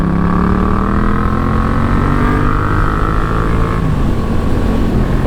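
A Yamaha MT-07 A2 motorcycle ridden on the road gives a loud, close engine drone that climbs steadily in pitch as it accelerates, then drops briefly before settling, with wind rush underneath and no speech.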